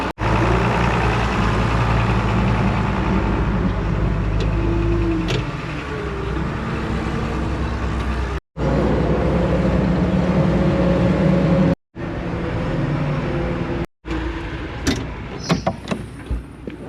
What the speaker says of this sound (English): I'll take the backhoe back to the barn